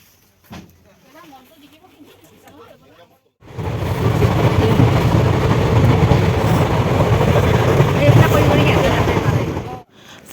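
A train in Assam heading toward Naharkatia roars past, a loud, dense rumble that starts abruptly after a few seconds of quiet background talk and then cuts off near the end.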